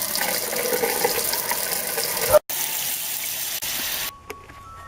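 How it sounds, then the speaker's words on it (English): Tap water gushes steadily into a bowl indoors for a couple of seconds, then cuts off briefly before a quieter trickle resumes and stops, with no talking. "I'm going to take you inside and fill this bowl"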